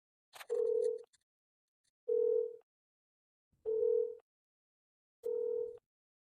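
A telephone ringback tone sounds on a call back, four clean, evenly spaced rings about a second and a half apart, each with a short burst of line noise at the start.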